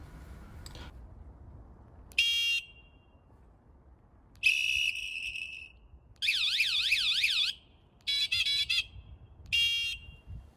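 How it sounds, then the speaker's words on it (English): An Apollo Pro 60V electric scooter horn accessory cycling through its sounds: short electronic whistle and horn beeps, then a warbling alarm tone rising and falling, in separate bursts with quiet gaps, fairly close. "Pressing the bottom button of the horn controller activates the horn"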